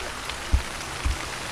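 Steady outdoor rain falls as a dense, loud hiss with a couple of soft low thumps of drops striking a surface, and no voices.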